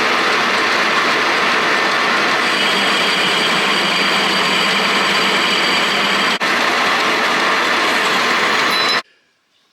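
A metal lathe turns a small locating step in a steel part for an International Harvester 574 tractor steering column, giving a steady, close, continuous machining whine and rumble that stops abruptly near the end.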